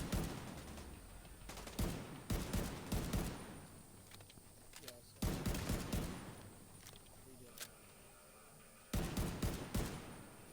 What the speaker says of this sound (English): I love the sound of some of these guns.